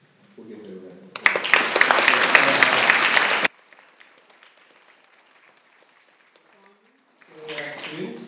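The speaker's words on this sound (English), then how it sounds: "We'll give her a round of applause." An audience at a school Stage 3 presentation day applauds Ms. Carter, a burst of clapping lasting a couple of seconds, with speech before and after.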